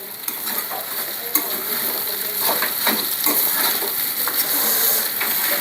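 Poha fries in a pan and gets stirred together, giving a steady broadband sizzle with scattered scraping and clinking strokes of the spoon throughout, close by, with no talking.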